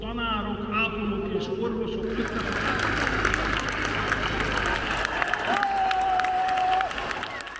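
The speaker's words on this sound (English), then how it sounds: "I wasn't quite sure what they were cheering for" A crowd cheering and applauding in Budapest, a dense wash of claps and shouts that swells after the first two seconds, with a voice talking over it at the start and a brief tone near the end.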